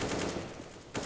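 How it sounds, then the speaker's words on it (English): A burst of AK rifle fire in a video game, a dense continuous rattle of shots filling the whole moment, loud and close, with a sharper renewed crack at the end. "I shot him in the head with an AK"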